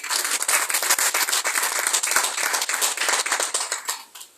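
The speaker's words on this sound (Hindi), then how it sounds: "तालियां बजाकर सबसे पहले इज्जत खुदा के नाम को हम देंगे" A church congregation at a Shine in Jesus ministry service in Dubai claps together in steady, dense applause, loud and close at first and fading out over the final half second, with no talking.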